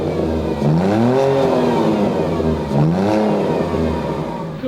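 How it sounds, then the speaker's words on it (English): A Ferrari 812 GTS V12 rises and falls through two throttle blips, an engine starting with exhaust pops and bangs, close and loud with no talk. "I'm now gonna start the car for you, and you don't know what's gonna happen because you have to hear the exhaust."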